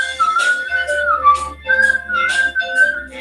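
Someone whistles a melody along to a show's opening theme, clear sustained tones in short phrases over a soft low musical backing, close and fairly loud.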